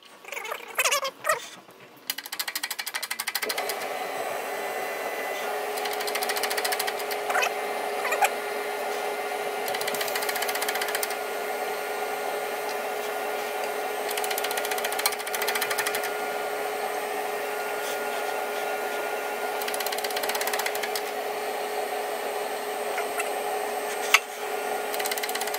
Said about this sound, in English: so we're now going to ream the valve guides